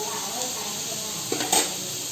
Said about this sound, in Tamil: இனி நம்ம தக்காளி போட்டுக்கலாம்